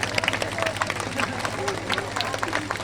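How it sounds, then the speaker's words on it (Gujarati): A seated crowd applauds at a community felicitation ceremony honouring a police sub-inspector, giving a dense crackle of clapping over a low electrical hum for a few seconds. "આપણે સૌ તાળીઓના ગડગડાટથી બેનને પણ વધાવીશું."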